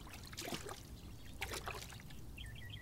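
Sand collected from artisanal gold mining being rinsed in a waterway in Madagascar, giving a soft, continuous trickle and splash of water with a few brief louder sloshes, fairly close, with no talk over it.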